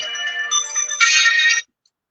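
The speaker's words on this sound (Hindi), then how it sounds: "और ये विक्रम सिंह का बार बार फोन आ रहा है हमसे आशीर्वाद लेने के लिए" A phone ringtone chimes during a call, a bright electronic melody of a few stepped tones lasting about a second and a half, then cutting off to silence.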